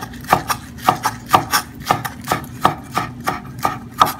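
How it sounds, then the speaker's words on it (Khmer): A knife finely chopping spring onion leaves on a board, giving about fourteen crisp, evenly paced taps close to the listener. "ឥឡូវខ្ញុំហាន់ស្លឹកខ្ទឹមល្អិតៗទូចៗអញ្ចឹងណា"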